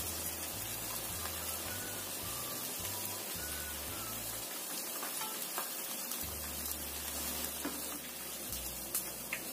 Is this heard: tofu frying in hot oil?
yes